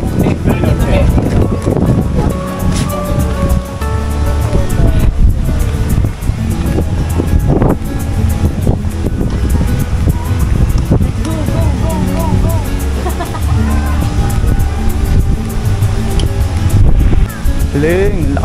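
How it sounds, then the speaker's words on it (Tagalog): Strong wind gusting across an open beach on Boracay where kite surfers ride big waves, a loud steady roar with surf and buffeting on the microphone throughout, and voices talking over it. "lakas kasi ng hangin ngayon"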